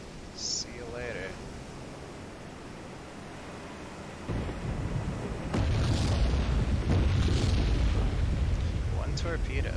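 In the Silent Hunter III submarine game, a torpedo explodes against a British Revenge-class battleship during a 1944 convoy attack. A deep, booming rumble swells up and keeps roaring loudly to the end.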